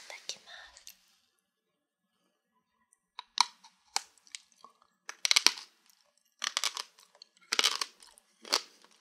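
Dried Ise takuan, a long sun-dried pickled radish from Mie, crunched in close bites, a quiet whisper at the start then a run of sharp crisp crunches and chewing in bursts, near and intimate.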